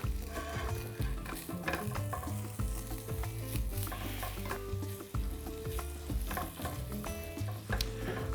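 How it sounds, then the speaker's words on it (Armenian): Bacon sizzles and crackles steadily in a hot pan, close up, with occasional stirring scrapes and utensil clinks breaking the constant frying hiss. "Բեկոնը թող տապակվի, յուղը դուրս գցի"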